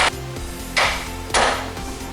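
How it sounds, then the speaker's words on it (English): A hammer strikes the cast iron knuckle of a Dodge Caliber during CV axle removal, giving two loud, sharp metallic blows about half a second apart over a low background hum. "Hit it right here on that cast iron right there."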